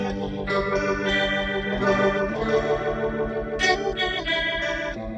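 An electric guitar played through a budget homemade Leslie-style rotary speaker set to fast speed, chords swirling with a rapid, pulsing tremolo-chorus warble, loud and close, with no talking.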